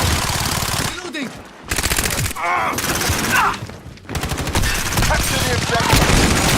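Video game gunfire during a hard point capture battle: sustained, loud automatic bursts with rapid rhythmic shots, briefly broken by pauses, while in-game voices call out over the shooting.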